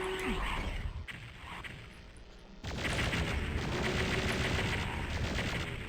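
Plasma gun shooting in Doom 64 Retribution: rapid, continuous energy-weapon fire with a brief lull near the start, then steady loud repeated blasts close up, with no one talking.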